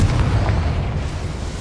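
Confringo fire spell blast in Hogwarts Legacy on PS5, a single deep, loud boom at the start that rumbles and fades over a second and a half.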